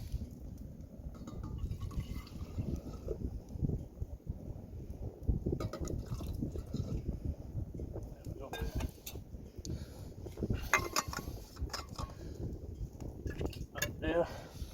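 Hot water, about half a pint meant for bread dough, pours out in a faint, uneven stream of splashing and trickling, with a voice speaking over it.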